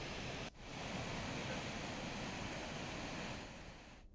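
Water pours through the opened gates of the Gangrel dam at about 24,000 cusecs, a steady, dense rushing roar that fills the whole stretch without pause, with no voices over it.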